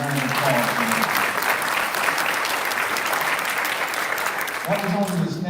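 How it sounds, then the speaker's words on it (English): A large audience at a sheriff's office event gives a loud, sustained round of applause for the division commanders. A voice speaks over the start and again as the clapping dies away. "Give our division commanders an awesome round of applause."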